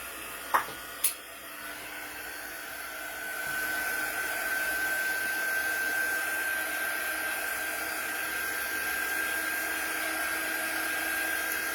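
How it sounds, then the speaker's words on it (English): A small handheld hair dryer blows steadily on chalk paste spread over cellophane, starting after a couple of clicks and settling into a constant close whir with a high whine that runs unbroken to the end. "I need this to dry. I've got my little dryer here."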